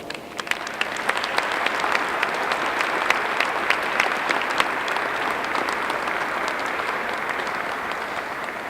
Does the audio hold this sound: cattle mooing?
no